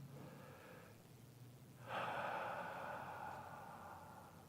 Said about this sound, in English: Take another nice deep breath.